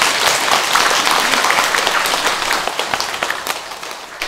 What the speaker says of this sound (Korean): 이런 법회를 주관하신 법원사 스님들과 주지스님께 박수 한번 보내드리죠